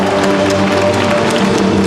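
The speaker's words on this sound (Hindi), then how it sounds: "जोरदार तालियों से मंडलावासियों स्वागत कीजिए" A dense wash of crowd applause fills the whole moment, loud and continuous, with a faint amplified voice underneath.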